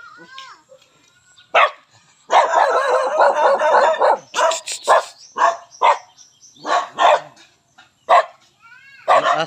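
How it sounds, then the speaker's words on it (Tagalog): A dog at a home in the Philippines barks in loud, close, irregular bursts with yips and whimpers, with pauses between barks and some talk in the background. "Yung aso nyo."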